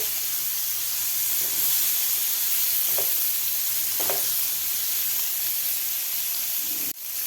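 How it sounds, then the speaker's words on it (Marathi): Paneer pieces frying in a pan on a gas stove give a steady, moderately loud sizzle with faint hiss throughout, a few soft clicks of stirring, and a brief bump near the end. "आपल्याला एक ते दीड मिनटंच हे फ्राय करून घ्यायचे आहेत पनीरचे पीसेस"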